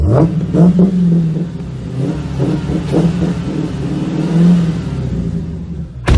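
A small Smart car engine revs up and down repeatedly, a buzzy mid-pitched whine rising in bursts, close and loud.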